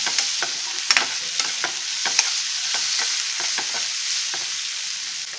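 Chopped tomato frying in a pan for a dhaba-style mutton dry fry hisses steadily, with repeated scraping stir strokes close by.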